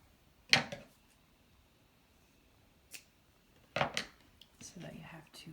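Scissors snip through fabric while a face mask is being made, giving a few quiet, crisp cuts spaced apart in a hushed room, followed by soft handling noises.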